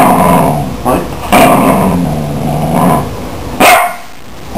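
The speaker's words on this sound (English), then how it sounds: "Hey. Enough barking." A dog barks and growls in a low, rumbling run with sharp yips breaking through, loud and close, while a person speaks over it.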